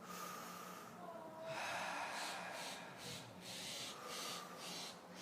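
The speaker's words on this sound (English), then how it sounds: "Open your mouth and relax your throat and breathe this way." Slow breaths are drawn in and pushed out through an open mouth, close and soft, with a long airy exhale followed by several shorter, rhythmic puffs.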